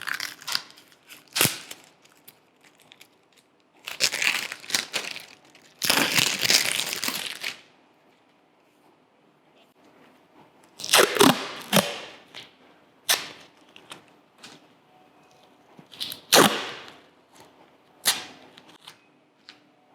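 Blue Dolphin plastering tape torn by hand in a quiet room: crisp ripping and crinkling bursts, some brief snaps and some longer tears, separated by silent pauses, loud and close.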